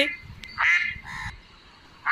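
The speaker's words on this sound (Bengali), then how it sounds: "আর এখানে হাঁসটি রূপার ছেলেকে নিয়ে সাঁতার কাটছিল তার বাচ্চাদের সাথে।" Ducks quack in short, nasal bursts on a pond, a couple of calls separated by brief pauses, fairly close and clear over a quiet background.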